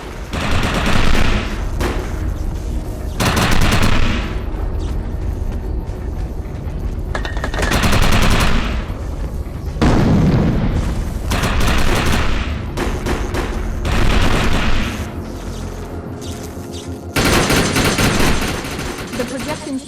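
Rapid automatic gunfire with the overcharge power active in the shooter game Defiance, as loud, close bursts of sustained fire separated by short pauses, with occasional booms and a voice speaking in between.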